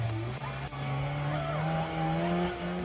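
A car drives off-road over rocks and muddy ground, its engine droning steadily with shifting pitch and occasional tire scrabbling, close and continuous throughout.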